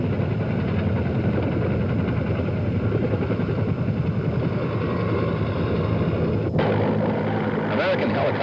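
American military helicopters in Vietnam in 1971, a continuous close, loud rotor and engine drone throughout with someone talking over it.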